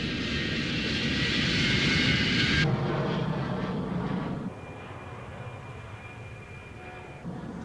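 Old-fashioned propeller aeroplanes roar past at an air display, a loud steady engine drone that shifts and eases as the aircraft move away, with no talk.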